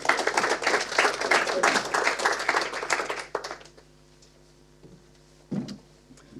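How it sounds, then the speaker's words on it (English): A conference audience gives a round of applause for a sponsor presenter, with brisk, moderately loud clapping for about three seconds before it fades into a quiet room with a few faint knocks and shuffles. "So big warm round of applause for Paul."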